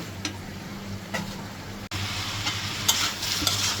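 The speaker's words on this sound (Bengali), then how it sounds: "মাংসটা আমি একটু কষাই নিচ্ছি।" Beef sizzles steadily while being stir-fried and browned in a pan, with periodic scraping stirs of a utensil cutting through the continuous frying hiss, close and moderately loud with no talking.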